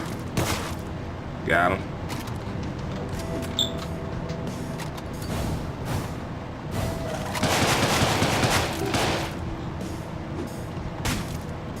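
Gunfire in the Deadbolt video game, with several sharp bursts spread across a busy mix of game sound and ongoing talk.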